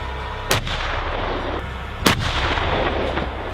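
Two heavy booming cannon blasts, like an M1 Abrams tank's 120mm smoothbore gun, crack out about a second and a half apart, each a loud sharp report over a steady rumbling background.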